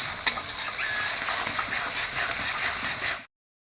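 Cumin, garlic and ginger pastes are being sautéed in a pan, producing a steady, even hiss with a single sharp click near the start; the sound is close and continuous, then cuts off abruptly.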